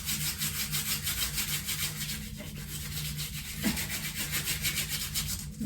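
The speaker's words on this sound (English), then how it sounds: "Rub it a little better." Steady rubbing and scraping as tape is pressed down against a basement pantry wall during mural lettering work, a continuous close friction sound with a few small bumps, no talking.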